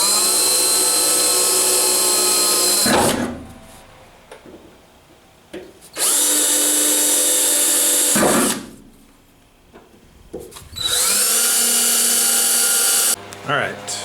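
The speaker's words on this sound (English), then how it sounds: "I'm going to drill a small pilot hole first on all of these." A power drill bores small pilot holes for a rear suspension bracket on a 1977 Camaro Z28, in three loud, steady high-pitched whining runs of about three seconds each, separated by quieter pauses with faint handling noise.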